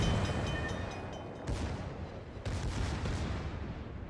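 Battleship secondary guns fire nonstop in World of Warships, the USS Massachusetts engaging the Dunkirk, a dense rumbling barrage with sharper booming bursts near 1.5 and 2.5 seconds, loud and continuous with no talking.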